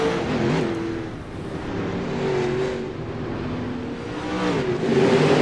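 Late model race cars roar around the dirt oval at Eldora in a steady, loud engine drone, pitch rising and falling as the pack races under green, with no voices.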